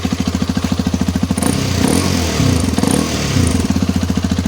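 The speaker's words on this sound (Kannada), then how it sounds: "ಸ್ಟಾಕಲ್ಲೇ ಎಕ್ಸಾಸ್ಟ್ ನೋಟ್ ನೋಡ್ರಿ ಯಾವ ಥರ ಕೇಳಿಸ್ತಿದೆ ಅಂತ" A Hero Xpulse 210 motorcycle idles through its stock exhaust with a steady, bassy thumping pulse, then is briefly revved twice with rising roars before settling back to the even idle beat, loud and close.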